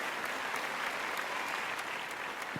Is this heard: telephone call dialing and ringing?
no